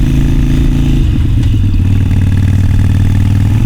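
A Harley-Davidson Iron 883 under way on wet roads in rain and fog, its V-twin engine rumbling loud and close with a steady throb that shifts pitch partway through as it changes speed.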